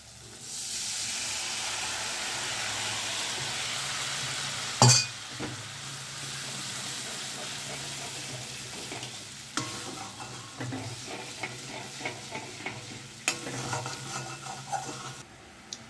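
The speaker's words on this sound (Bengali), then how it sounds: "এইটা একটু ভাজা হবে" Pointed gourd (potol) frying in a pan for doi potol, with a steady hiss of sizzling oil, then a sharp clink and scraping, stirring sounds with scattered small knocks and spatters, close up and without voices.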